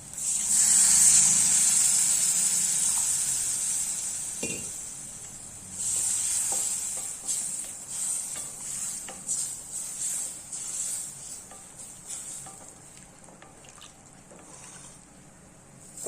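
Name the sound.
vegetables cooking in water in pan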